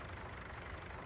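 A small farm tractor engine idles in a low, steady, faint rumble heard on its own without talk, its even drone running through the brief moment.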